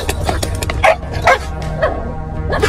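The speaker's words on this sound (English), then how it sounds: "Look at that little dog. He's trying to get it." A small dog barks in a few sharp, close, loud yaps spaced irregularly across the moment, over a low background hum.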